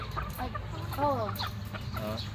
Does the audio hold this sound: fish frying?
no